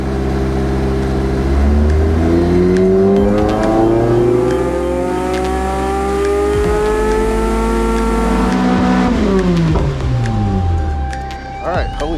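A Toyota MR-S engine on a dyno pull, loud and close, climbing steadily in pitch through a long sustained rev before dropping off as the throttle closes, with brief voices over the engine noise.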